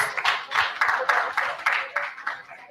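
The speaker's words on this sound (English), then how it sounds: "Big round of applause." An audience claps steadily to welcome panelists at a ministerial launch event, a brief burst of close, moderately loud applause with dense irregular hand claps throughout.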